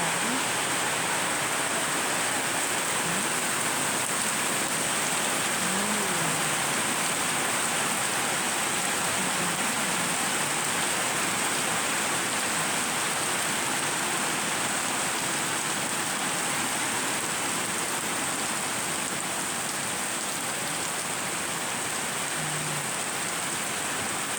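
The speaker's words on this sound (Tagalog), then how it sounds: "malakas ang ulan" Heavy rain pours down in a constant, dense hiss, loud and unbroken throughout, with no talking.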